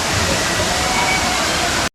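Savdav waterfall roars as a dense, steady rush of falling water, loud and close throughout before cutting off abruptly.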